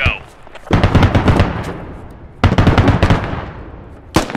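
Gunfire in the military shooter game Squad: two loud bursts of rapid automatic shots around a second each, plus a single sharp crack at the end, with a voice talking over the shooting.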